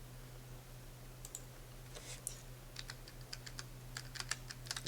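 A computer keyboard typed on in quick irregular bursts of key clicks, faint and close, over a low steady hum.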